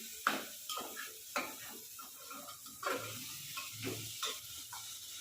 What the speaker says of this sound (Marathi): आता त्यामध्ये कोथंबीर टाकली आहे तिने हलवून घेते